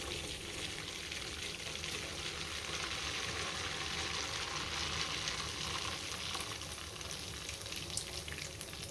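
Sweet pitha fritter batter frying in hot oil, a faint, continuous bubbling sizzle that holds steady throughout, heard alone without any talking.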